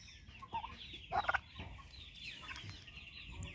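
Turkeys calling in short clucking bursts, a couple of sharper gobbling notes in the middle, over a steady rustling outdoor background; fairly faint and somewhat distant. Big-6 turkeys.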